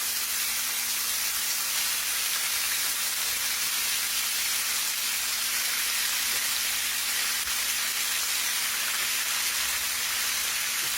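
Beef steak meat searing in a hot skillet, a large batch at once, giving a steady, loud, even sizzle and hiss that runs unbroken from start to finish with no talking.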